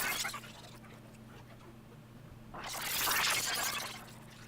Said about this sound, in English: if I apply the granular and mess with some of the settings, now it sounds like this